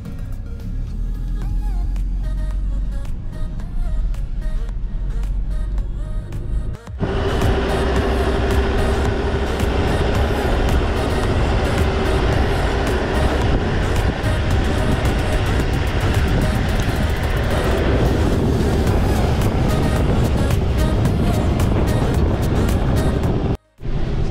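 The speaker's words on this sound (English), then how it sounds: "So with all beach driving, we're gonna go on four-wheel drive high." A four-wheel drive vehicle set to high range drives along a beach, giving a loud, steady engine and tyre roar with wind buffeting that carries on without a break for most of the stretch.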